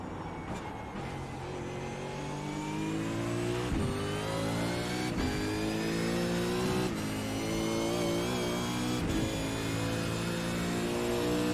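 V8 race cars launching at Barber in a racing game, with several engines roaring and revving together, rising gear by gear with sharp shift breaks, loud and continuous with no talk.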